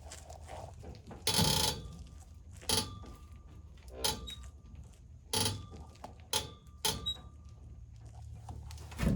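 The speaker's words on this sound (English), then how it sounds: "That sound you hear was the tail housing of the transmission, and the sound was resonating through the drive shaft." The transmission tail housing of a race car knocks in irregular, separate clunks, each ringing briefly through the drive shaft over a quiet background, with about eight hits spread unevenly.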